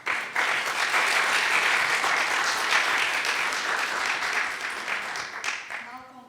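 Sustained applause from an audience at a peace symposium, dense and even clapping that swells quickly, holds for several seconds and then thins out at the end.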